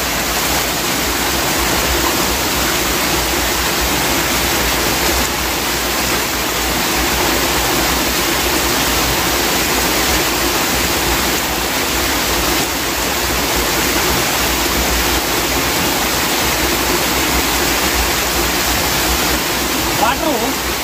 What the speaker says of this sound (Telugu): పైనుంచి వాటర్ జోరుగా మీద పడటం వల్ల